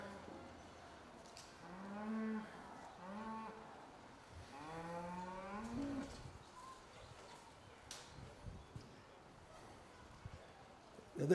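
Cattle moo in a handling pen, with two long, moderately loud bellows in succession, followed by quieter shuffling and ambient farm noise.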